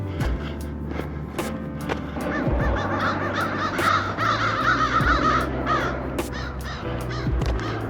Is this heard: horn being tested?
no